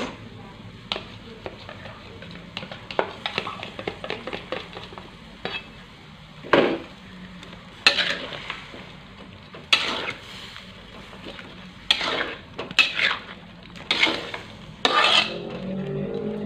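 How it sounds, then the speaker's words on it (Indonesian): Spoon stirring Balinese-spiced salem fish in a pan after sweet soy sauce, sugar and pepper are added: irregular scraping strokes with sharp utensil clinks against the pan over a low background sizzle, close and moderately loud. "Kita aduk. Lalu sekarang kita masukin kecap manis."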